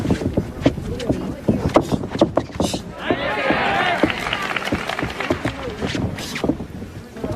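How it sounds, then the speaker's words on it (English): A Japanese crowd at a boxing bout with Inoue roars and cheers after a landed check hook, a broad swelling wash of noise building midway and holding, with commentators talking over it throughout. "The Japanese crowd getting into it here"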